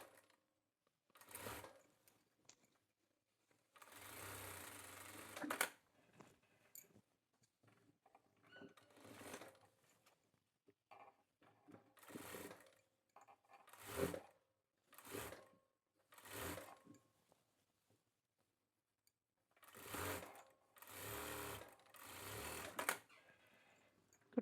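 A sewing machine stitches a men's kurta in repeated short runs of rapid needle clatter, separated by brief pauses, close and fairly loud with no talk over it.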